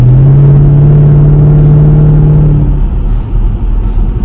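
A Chevy SS engine, fitted with headers, runs on a cold start. A loud, close, steady drone with a strong tone drops partway through into a lower, rougher rumble, with no talk.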